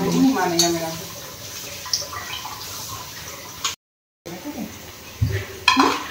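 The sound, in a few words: washing in a vessel with water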